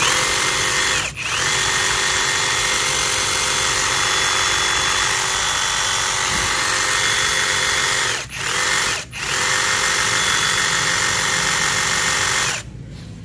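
A Milwaukee 2720 cordless reciprocating saw runs steadily and loudly for most of the stretch, with two brief pauses in the middle before it cuts off near the end.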